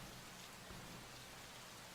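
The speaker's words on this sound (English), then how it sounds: "What are you doing out in the rain?" Rain in the video game Gemini Rue, a steady, dense hiss of falling rain that fills the sound evenly and continuously, with no other sounds standing out.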